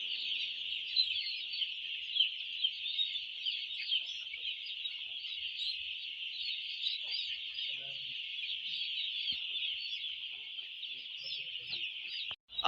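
Chicks on a broiler poultry farm during vaccination, a dense, continuous chorus of high cheeping from many birds, steady and fairly close, with a few faint handling knocks underneath.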